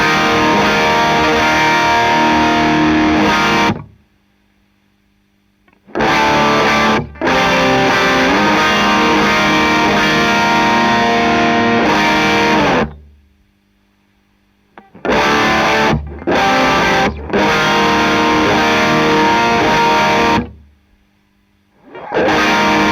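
Heavily distorted electric guitar through a Ceriatone Son of Yeti hot-rodded Plexi amp, loud, thick rock riffing in bursts broken by several abrupt silent gaps.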